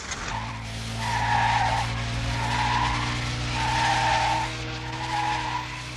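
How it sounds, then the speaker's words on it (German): A 1974 front-wheel-drive Volkswagen Golf corners hard, its tires squealing in repeated, loud, wavering bursts over a steady engine drone, close by and without talking. "Der frontangetriebene Wagen meistert schnelle Kurvenfahrt spielerisch."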